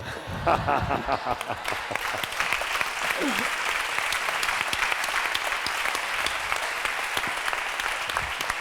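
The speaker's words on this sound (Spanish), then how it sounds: "Un fuerte aplauso para ellos, por favor." A crowd breaks into sustained applause, dense clapping that builds quickly and holds steady, with a brief voice and faint chuckles at the start.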